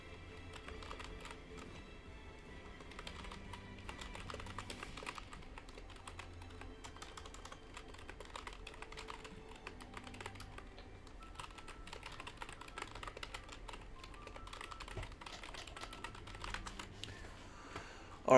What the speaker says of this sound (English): I'm just typing stuff